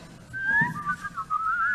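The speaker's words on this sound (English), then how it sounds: "No, there's whistling from next door." A person next door whistles a short, wavering melody, clear and fairly faint, a thin tune drifting up and down with no other sounds.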